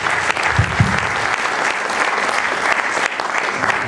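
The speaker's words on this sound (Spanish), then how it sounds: "Un fuerte aplauso para el doctor Vicente Ota Rivera." Audience at a literary symposium applauding, with dense, steady clapping from a roomful of people filling the whole stretch at close range.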